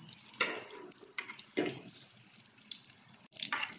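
Lumpia spring rolls fry in hot cooking oil in a pan, giving a steady bright sizzle with bursts of crackling and spatter, close and moderately loud throughout.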